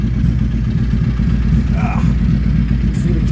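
A 2000 Suzuki VZ800 Marauder with freshly rebuilt carburetors idles after a cold start without choke, a steady close low throbbing engine loping evenly on a chilly morning.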